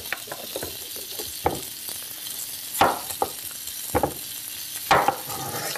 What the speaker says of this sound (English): And we'll just let this brown up a little bit more.